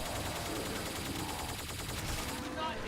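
A Helios rifle firing in Killing Floor 2 during a takedown of a Scrake, with bursts of shots buried in a dense, loud wash of game noise that continues to the end.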